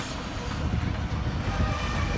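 Locomotive 4807 of the New South Wales Rail Museum passes hauling a shuttle train, a steady, rumbling dense low roar and broadband noise, continuous and fairly loud throughout.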